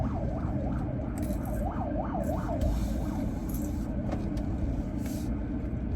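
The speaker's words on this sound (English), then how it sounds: "Another ambulance." An ambulance siren wails in a rapid, rising and falling pattern at a moderate distance, heard over steady city traffic rumble and fading after a few seconds, with no speech.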